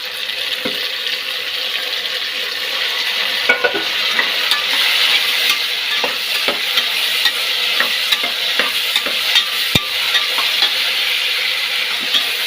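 Chicken biryani masala fries loudly in a pot, a continuous close sizzle broken by frequent scraping and clacking as a spoon stirs it, with no voices.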